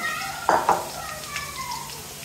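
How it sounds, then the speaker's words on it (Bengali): Onion dropped into hot oil in a kadai wok while cooking pabda fish curry, with two quick utensil clanks early on followed by a soft, steady sizzle close by. "কড়াই বসাই দিচ্ছি, তেল গরম করে পেঁয়াজ দিয়ে দিচ্ছি"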